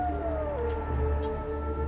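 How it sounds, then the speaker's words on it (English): A wolf howls at night from somewhere in the distance near Tanana, one long, hollow, gliding tone that slowly falls in pitch over a low background rumble. "That is totally a wolf."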